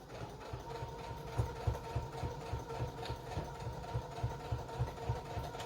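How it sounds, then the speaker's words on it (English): A sewing machine stitching an apron pocket backward and forward, a steady, fairly quiet mechanical whir with a rapid rhythmic pulse, running continuously with no talking. "I'm finishing off my pocket by doing a back stitch and a forward stitch"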